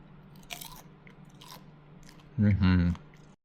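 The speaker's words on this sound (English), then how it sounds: "did you hear that crunch from air fry?" Air-fried food crunches between teeth in a couple of brief, crisp bites up close, followed by a voice speaking.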